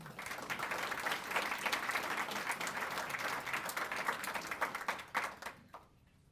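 Audience applause welcomes a health education speaker at a chamber of commerce event, a steady roomful of clapping that holds for about five seconds before tapering off.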